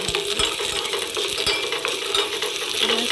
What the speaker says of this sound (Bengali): তো পেঁয়াজটা আলাদা আমি ভেজে নেব।